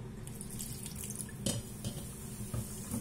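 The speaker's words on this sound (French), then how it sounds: "Je rajoute mon eau" Water being poured into a liquid pizza batter, a faint, close trickle and splash with a few small bumps from a bowl or utensil.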